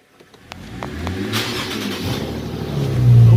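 A BMW E90/E92 330xi with a muffler delete starts up with a few clicks and cranks, then settles into a raw, loud idle that swells into a deep rev at the end.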